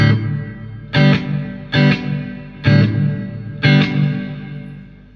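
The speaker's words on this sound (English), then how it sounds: "I wouldn't say the reverb gets bigger, as in it's echoing more." A Crate FlexWave 120/212 guitar amplifier with its reverb engaged rings out four strummed chords, each struck loudly and left to decay in a smooth reverberant tail, with no voices.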